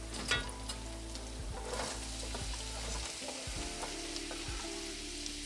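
Onions fry in spices in a pan until brown, giving a loud, dense sizzle with stirring scrapes throughout and no voices.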